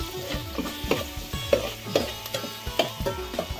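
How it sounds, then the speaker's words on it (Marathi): Onion and ginger-garlic paste sizzle in a pan while being stirred, with sharp repeated scraping strokes and spatters over a steady frying hiss, close and fairly loud. "कांदा टाकलेला आता आलं लसूण पेस्ट. झणझणीचा आवाज येतो."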